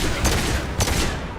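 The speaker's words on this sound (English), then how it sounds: "I cannot fire the phalanx that fast." Phalanx pistol fire in Mass Effect 2 comes as two loud, close shots in quick succession over dense, continuous combat noise.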